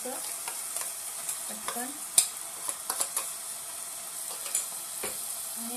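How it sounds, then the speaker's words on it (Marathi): Onion-coconut paste goes into a hot frying pan and is stirred, with a steady sizzle and scraping spoon strokes at an even pace close by. A voice speaks briefly. "हे कांदा खोबऱ्याचं वाटण हे सगळंच टाकायचं"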